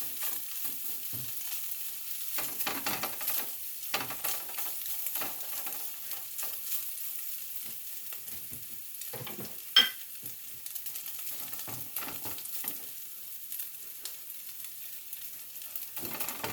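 Sausage frying in a pan and releasing grease, a continuous quiet sizzle with occasional crackles and stirring scrapes, with no talking over it.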